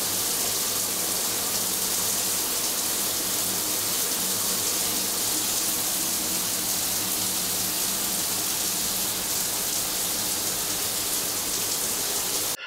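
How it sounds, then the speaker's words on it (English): A rainfall shower in a cruise ship Sky Suite bathroom pours water steadily down, giving a dense, even hiss that carries on without a break for the whole stretch. "The rainfall shower is absolutely magnificent. Water just rains down on you as you're standing there."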